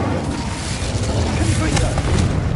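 The Incendio fire spell is cast in Hogwarts Legacy, giving a loud, sustained whooshing roar with rumbling low end throughout, mixed with a spoken voice.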